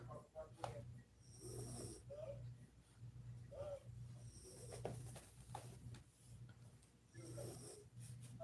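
Very faint, rhythmic snoring comes in soft repeated breaths with short gaps between them, low in level and close by. Faint voices can be heard around it.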